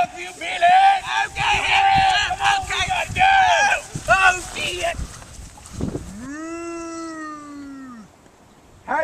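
Shouted voices come first, then a single long, loud cow moo rings out close by and fades away.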